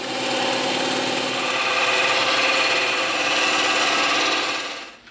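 A blade cuts steadily through a piece of EVA foam to shape a taper, giving a continuous, close, loud rasping hiss that holds for about five seconds before tapering off at the end.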